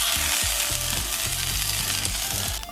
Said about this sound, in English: Now the salmon is frying away over here.